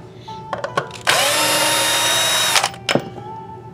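A power drill spins out the neck bolts of a 1989 Squier guitar, with a loud whine of about a second and a half between short clicks and bursts of handling.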